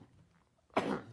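On a radio talk show, one short, breathy cough bursts out after a near-silent pause, close to the microphone, with no speech around it.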